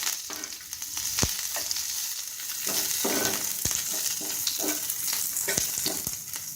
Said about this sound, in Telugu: కరివేపాకు పెడపళ్ళాడుతూ